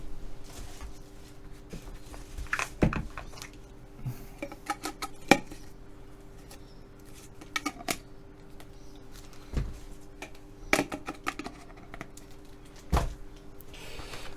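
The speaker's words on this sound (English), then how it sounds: "Sounds different when you cut it too." Scissors cutting through a sticker sheet at a table, with a handful of sharp, separate snips and clicks spread over the span against a quiet background, no talking.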